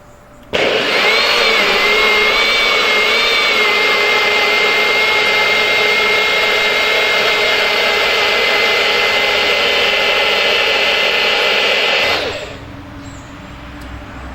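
Blender mixing a green smoothie with banana and Truvia, a loud steady high whir starting abruptly and running for about twelve seconds before winding down.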